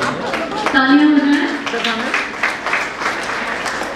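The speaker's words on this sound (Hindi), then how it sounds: "जोरदार तालियां हो जाए," Audience applause at a felicitation ceremony during an International Women's Day celebration on a business-school campus, with a voice briefly calling out over the steady clapping.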